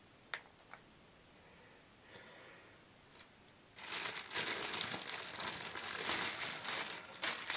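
Crinkly plastic rustling as a bag is handled over persimmon grafted seedlings, a few sharp crackles at first and then a steady loud stretch of crumpling and handling close by.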